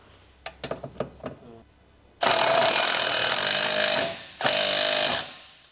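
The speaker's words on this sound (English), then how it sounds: "Use 17mm short socket with electric impact wrench." An electric impact wrench with a 17mm short socket works a nut on a 2021 Honda Civic camber arm, a few light clicks followed by two loud, close hammering bursts.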